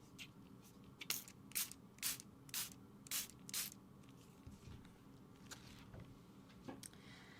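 Ink spray spritzed from a mini mister onto an art journal page, about six quick soft hissing puffs in a row, then a few fainter ones, close but quiet.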